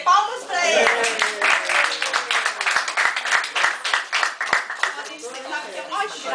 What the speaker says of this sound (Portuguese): Palmas para eles.